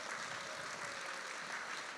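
Church congregation applauding at a centennial celebration after a large anniversary cake is cut, a steady dense wash of clapping throughout, moderately distant and even, with no voices over it.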